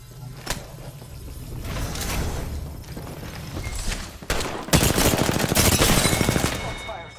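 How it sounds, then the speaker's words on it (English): Gunfire in a shooter video game: scattered single shots, then a sustained rapid automatic burst near the end, set over game ambience and a faint voice. "Shots fired at me."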